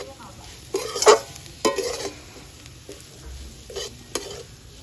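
Turmeric powder being stirred into a pan of frying food, with a few scraping spatula strokes over a soft sizzle, fairly close and moderately loud.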